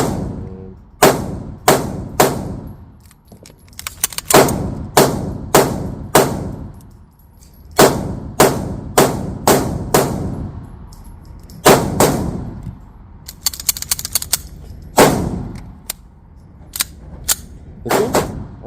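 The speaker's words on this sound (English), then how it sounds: "Let's do the mag that came with the gun and see if we have any failures or locking issues." Shots from an Apollo 11 compact 1911-style pistol at a busy outdoor range ring out as sharp, loud, evenly paced cracks in clusters of several, with other shooters' reports mixed in around them and no talking.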